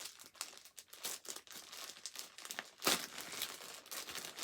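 A well-taped package is opened at close range: paper and tape crinkle and tear in quick irregular bursts, with one sharper rip near the middle and no voices.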